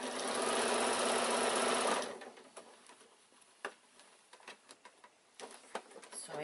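A sewing machine runs in one loud, steady burst while stitching around a quilted evening bag made of outer fabric, lining and wadding, then stops, leaving soft handling clicks and taps.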